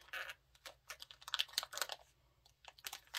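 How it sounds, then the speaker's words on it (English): A small plastic bag from a December 2021 Fat Quarter Shop Sew Sampler quilting subscription box is handled and pulled open, giving close, irregular crinkles and sharp clicking rustles in uneven bursts, with no talking. "Kind of hard to see what it is inside this little bag. If I can get it open."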